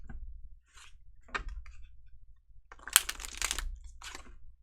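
Tarot cards are shuffled by hand in short bursts of soft riffling and slapping, close and quiet, separated by brief pauses.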